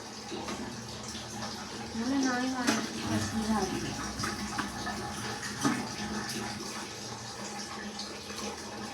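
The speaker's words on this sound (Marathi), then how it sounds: "आमच्या नळाचा आवाज सारखा चालूच राहील का कारण टाकीला प्रेशर नाही येईल" A household tap runs with a weak, thin stream because of low tank pressure, a steady trickle and splash under voices talking nearby.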